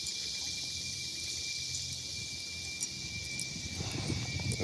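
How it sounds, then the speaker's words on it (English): Cicadas and insects drone outdoors in a quiet, peaceful spot with a little wind, a steady high buzzing that holds throughout and mixes with some low rumbling toward the end. "Y'all hear the cicadas in the background, like all the bugs and stuff."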